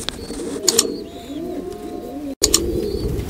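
A breeder pair of blue Stock Swallow fancy pigeons coos on a pigeon farm in Pakistan, with repeated soft, rolling low coos close by, mixed with a few sharp clicks and rustles.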